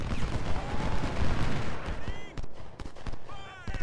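Gunfire from the Ultimate General Civil War video game crackles in a dense battle mix, with sharp shots and scattered volleys over a rumbling background, growing sparser toward the end.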